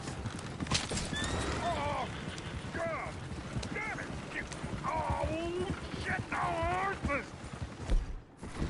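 Horse hooves clip-clopping steadily with several whinnies and neighs in a Western town in Red Dead Redemption 2, close and busy, with voices talking in the background.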